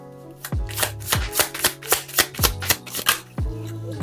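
Tarot cards are shuffled in a quick series of crisp riffling bursts, close and clear, with no talking.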